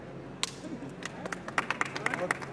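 A film clapperboard snapped at a movie launch event gives several sharp, quick clacks amid chatter and voices from a gathered crowd.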